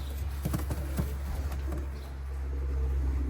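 Young pigeons of fancy breeds murmur with low, soft coos nearby, along with a few light taps and shuffles over a steady low hum.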